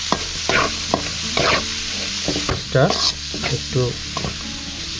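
Frying in mustard oil in a pan for a milk-and-taro curry, a loud crackling sizzle broken by repeated sharp scraping strokes of a spatula, with a single brief spoken word.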